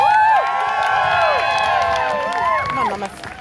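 Spectators at a jousting tournament cheer a rider, with high whoops and shouts over a crowd murmur that tapers off near the end.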